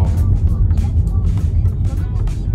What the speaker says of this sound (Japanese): 車がうるさくてね。